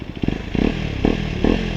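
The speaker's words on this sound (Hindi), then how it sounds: "इस बाइक का साउंड ये है" A KTM Duke 250 motorcycle fitted with a Dragger NS200 aftermarket exhaust runs up close, giving a loud crackling idle broken by three rhythmic throttle blips, each a short burst of revving.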